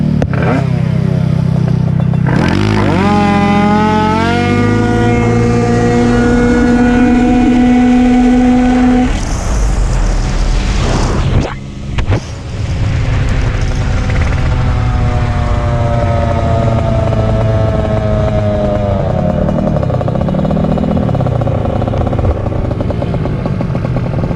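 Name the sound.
70cc 2fast and 228cc Taida Ruckus scooters racing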